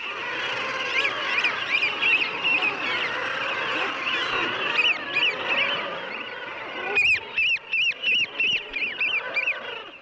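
Murres and other seabirds calling at a large nesting colony of more than 100,000 birds, a dense, continuous chorus of harsh honking cries with louder nearby calls repeating in quick bursts toward the end.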